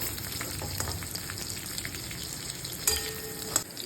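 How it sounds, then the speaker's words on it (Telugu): Green chillies fry in hot oil for a spicy peanut chutney, a soft steady close sizzle with a couple of brief sharp clinks of stirring. "అది తీసుకొని ఆయిల్లో వేపుకొని పక్కకు తీసేసుకోవాలి"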